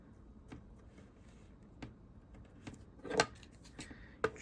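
Scissors trim rope for a handmade ghost decoration with a few faint, sparse snips close by, the sharpest two near the end.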